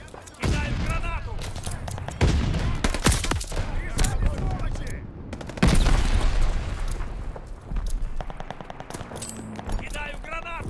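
Grenade thrown and detonating amid rapid gunfire in the shooter Call of Duty Vanguard, with a loud booming burst in the middle, surrounded by dense machine-gun bursts and voices talking throughout.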